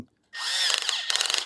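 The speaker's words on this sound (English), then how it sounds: "I'm screwing it in and it hits the wood. When you hear that, it's not actually moving. That's a clutch." A power drill driving a screw into wood with its clutch slipping, a loud continuous whir followed by a rapid ratcheting clatter as the clutch disengages, close and alone.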